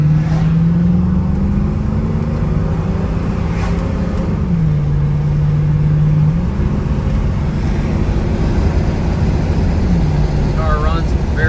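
A 1978 Pontiac Firebird Formula 400 with 64,000 miles drives along, its engine droning steadily with pitch shifts as it changes gear and speed, loud and continuous throughout, without talk.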